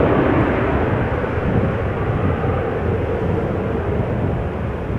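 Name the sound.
LOT Polish Airlines Embraer 195 jet bound for Warsaw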